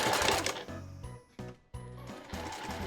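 A sewing machine stitches Marimekko fabric for a gathered skirt, running in several close, steady bursts separated by short pauses as the seam is sewn over.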